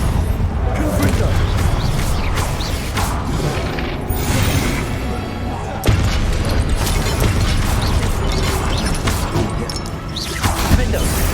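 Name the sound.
Confringo fire spell explosion in the video game Hogwarts Legacy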